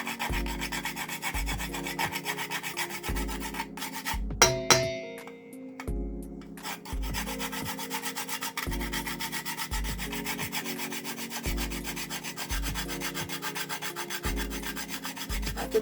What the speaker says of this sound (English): So he said I can grate some nutmeg in there, so I'm just grating this in.